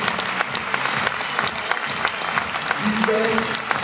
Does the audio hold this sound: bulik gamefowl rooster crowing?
no